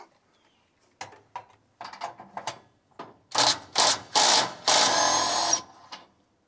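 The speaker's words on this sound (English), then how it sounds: "So I got a 1/2 inch socket on here, and we're going to pull that out." A 1/2 inch socket wrench backs out the orifice on a gas range being converted to propane, giving several close, loud bursts of rubbing, ratcheting metal after a few quieter clicks and taps.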